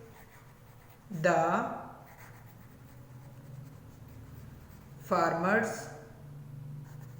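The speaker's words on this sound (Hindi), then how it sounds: "इसको हम थोड़ा सेट करके लिखेंगे" Pen writing an answer by hand on paper during an English comprehension lesson, a faint steady scratching under two short bursts of a teacher's speech.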